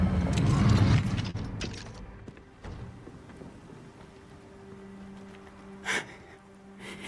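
In the video game Hogwarts Legacy, a door mechanism opens with grinding, creaking gears and clicking ratchet sounds, louder at first and then settling into a lower mechanical rumble with a brief clank near the end.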